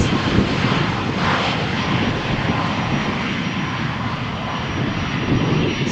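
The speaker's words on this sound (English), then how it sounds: "Ryanair flight to Barcelona cleared for takeoff." A Ryanair jet heading to Barcelona rolls for takeoff on runway 13 at Malaga Airport on a stormy morning, its engines giving a loud, steady broadband roar that holds evenly throughout with no talk.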